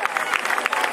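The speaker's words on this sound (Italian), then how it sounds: "Un applauso anche per lei" A short burst of crowd clapping, quick uneven claps blending into a busy murmur.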